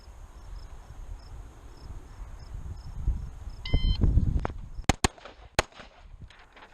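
Several sharp pistol shots crack in quick succession at a shooting range after a brief electronic buzzer beep, with a low rumble of activity before them.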